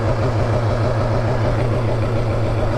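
A BMW S1000RR motorcycle engine idles steadily close by, a constant low throbbing rumble with no voices over it.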